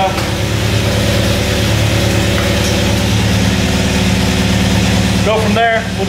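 A Scion FR-S fitted with a full aftermarket exhaust idles steadily just after a cold start, a loud, even low rumble holding throughout, with a brief voice near the end.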